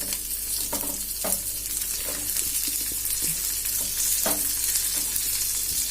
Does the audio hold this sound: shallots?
yes